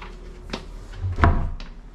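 A cabinet drawer slides open in a room, a few close wooden knocks and a scraping thud, loudest in the middle, with no talking.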